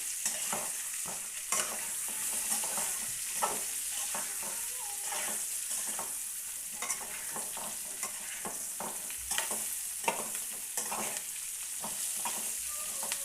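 Spiced stuffed eggplant curry being stirred in a pan, irregular scraping and clattering spatula strokes over a soft, continuous frying hiss, near and without voices.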